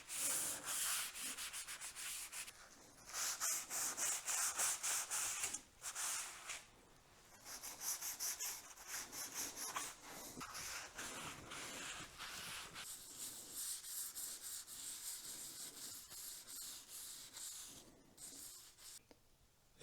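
Walrus Oil tung oil finish rubbed onto wood by hand, soft repeated scrubbing and swishing strokes in bursts separated by brief pauses, close and quiet, with no voices.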